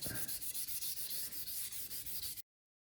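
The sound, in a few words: sanding a wooden guitar neck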